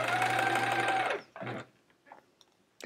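A sewing machine stitches a quilt seam in a steady mechanical whir for about a second, stops, runs briefly again, then falls quiet, close and clear with no talking.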